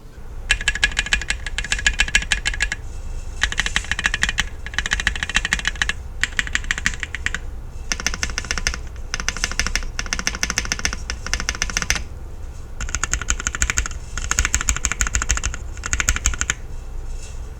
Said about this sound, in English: let's take a listen at how these stabilizers sound right out of the box